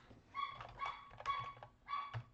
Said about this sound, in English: And Rooney's barking at that one.